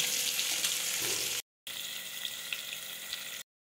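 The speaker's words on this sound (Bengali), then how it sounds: "এখানে দেখো আমি ইলিশ মাছ ভাজা বসিয়ে দিয়েছি।" Oil sizzles and crackles steadily as hilsa fish fries lightly in a hot pan, close up and constant, broken by a brief moment of silence partway through.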